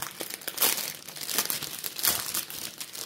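Simple paper wrapping around a package crinkles and rustles close by as it is unfolded and torn open, a continuous run of crisp crackling with a few louder crunches and no voices.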